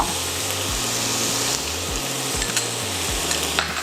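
Beef fried rice with basil being stir-fried in a pan, a continuous loud sizzle with repeated scraping strokes of a spatula against the metal at a steady rhythm.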